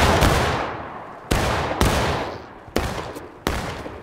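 A musket volley in the War of Rights game: five sharp, loud gunshots in ragged succession, each with a short echoing tail, and no talk.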